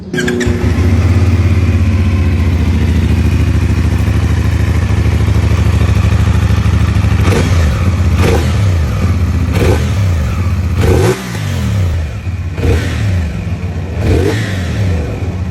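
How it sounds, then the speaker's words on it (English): A CFMoto 450 SS sport motorcycle engine idles steadily, then is revved repeatedly in sharp bursts, loud and close, with no talking. "So I'm gonna go ahead and turn it on for you so you can hear it."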